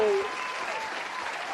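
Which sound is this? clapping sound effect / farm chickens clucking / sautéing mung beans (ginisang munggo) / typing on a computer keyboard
clapping sound effect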